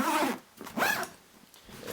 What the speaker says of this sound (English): And zip up this little side pocket right now.